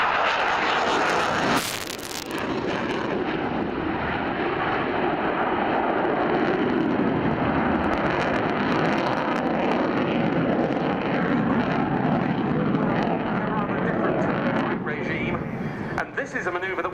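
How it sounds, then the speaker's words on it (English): A large fighter jet powered by Saturn AL-31F turbofan engines performs at the Air Tattoo air show, a continuous loud roaring jet rumble under a commentator's voice, with wind buffeting the microphone. "the Lyulka, or now Saturn, AL-31F turbofan engines are certainly providing thunderous performance."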